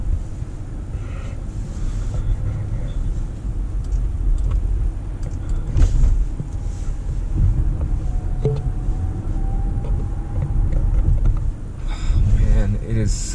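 A Bentley Bentayga W12 SUV cruises on the road, with a steady low rumble of engine and tyre noise mixed with wind buffeting, heard from inside the cabin and broken by a few faint knocks and clicks.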